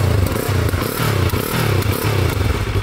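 A Yamaha R3 motorcycle engine runs steadily and loudly close by, its low pulsing note rising and falling slightly with some clatter and no talk.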